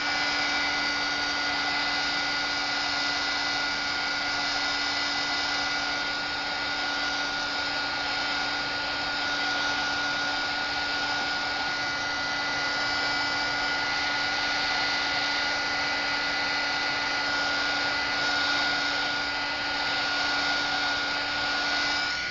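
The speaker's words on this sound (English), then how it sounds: "And you just hit it with the heat gun." A heat gun blows steadily on alcohol ink over paper, a continuous loud whirring rush with a fixed tonal hum that holds without a break, up close with no talking.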